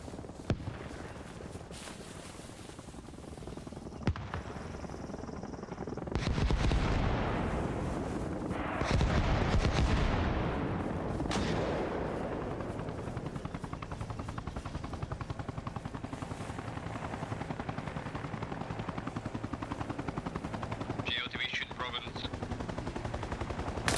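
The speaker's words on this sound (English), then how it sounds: "I assume this is about to be a gun run." MI-24 helicopter making a gun run in Arma Reforger, bursts of heavy gunfire and booming impacts over a constant rotor drone, loudest in the middle and then settling into sustained helicopter noise.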